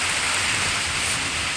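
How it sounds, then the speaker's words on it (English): Rain pours down steadily in a stormy spell under a tornado watch, a dense, even hiss of drops on surfaces with no gaps, fairly loud and close. "It just started raining"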